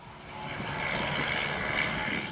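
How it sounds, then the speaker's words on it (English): A crop-dusting airplane drones steadily overhead while spraying glyphosate on sugarcane plantations, a continuous engine roar holding at moderate loudness without a break. "They distribute the chemical by plane to the sugarcane plantations"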